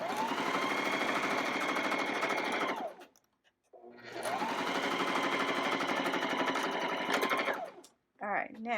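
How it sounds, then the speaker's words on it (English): A sewing machine stitches cotton fabric together for a cloth-diaper wet bag, running in two long, steady, rapid buzzing bursts separated by a brief pause, close and clear, with a short bit of voice at the end. "now we're going to sew up the cotton together"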